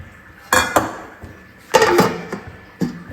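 A lid is set over a dish of marinating food, giving a few close metallic clanks and clinks in separate bursts, loud against a quiet kitchen.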